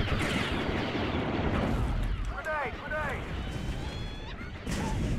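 A grenade blows up in Star Wars Battlefront, a loud, booming blast within a constant wash of battlefield noise. Blaster zips and further crashes follow close by, and players' voices can be heard over the fighting.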